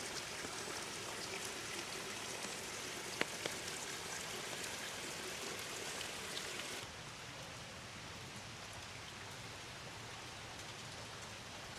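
Steady rain falls continuously at a nature spring resort in the Philippines, a dense hiss of drops on surfaces that softens slightly partway through.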